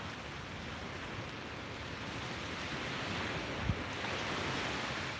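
Ocean waves wash onto a beach on a cold early morning, a continuous distant surf roar mixed with wind noise on the microphone and one brief thump.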